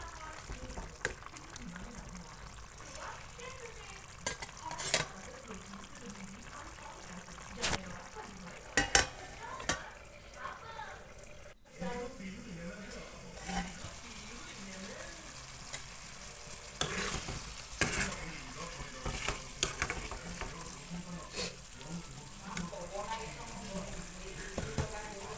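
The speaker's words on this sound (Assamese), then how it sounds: "মোৰ এই ওলকবিখিনি অকণমান সিজিবলৈ আৰম্ভ কৰিছে চাওকচোন" Kohlrabi cooks in a pan with a quiet, steady sizzle, broken by scattered clinks and scraping as it is stirred, while a person talks at intervals over the cooking.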